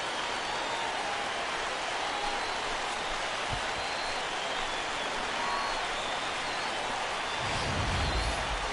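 Broad crowd roar of a stadium audience cheering a home run in MLB The Show 16, a steady wash of noise that swells louder near the end.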